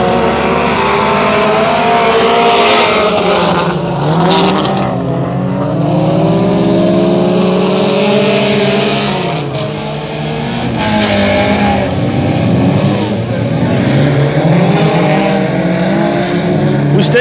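Race cars roaring around a dirt track raceway during a stinger feature race, loud continuous engine howl with rising and falling pitch as several cars pass close by, with voices faintly under the noise.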